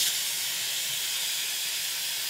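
Steam hisses steadily and loudly from a pressure cooker during a manual pressure release while plant-based bean chili cooks, a continuous bright rushing spray with no talk over it.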